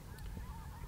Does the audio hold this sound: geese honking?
yes